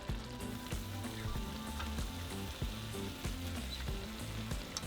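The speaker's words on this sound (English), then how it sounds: "dip your tortillas in there, and start cooking them in your comal" Oil-dipped tortillas fry on a comal with a steady, close sizzle and crackle, brief scraping touches breaking through now and then, and no voices.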